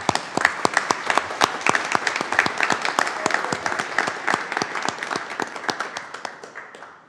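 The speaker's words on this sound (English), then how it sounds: "We just want to give you applause tonight and thank you for all you do." Council meeting audience applause, a dense run of crisp close claps that holds steady and then thins out toward the end.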